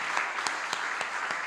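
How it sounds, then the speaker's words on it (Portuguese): Church congregation clapping during a Portuguese-language evangelical sermon, a steady dense wash of many hands with a few sharper peaks, close and continuous throughout. "Podemos dar uma salva de palmas para Jesus?"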